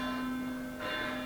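Bells ring with a steady, sustained tone and shimmering overtones that swell slightly near the end, heard alone without any voices.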